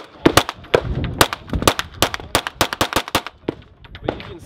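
Rapid gunfire from a KRISS Vector 9mm carbine, shot pistol-style at a SHOT Show range, with about a dozen sharp, loud reports in quick irregular bursts and close by, with no talking.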